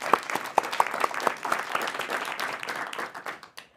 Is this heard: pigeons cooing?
no